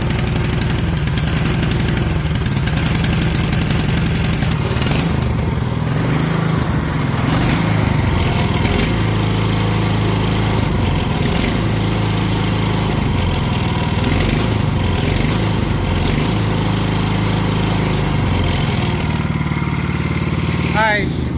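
A MaXpeedingrods 7HP 212cc engine fitted to a John Deere 110 lawn tractor runs with a steady, loud, close mechanical drone, and people talk nearby.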